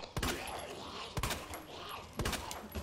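Three sharp gunshots ring out about a second apart from a firearm in the video game Resident Evil 2, loud and close, each with a short echoing tail over low background noise.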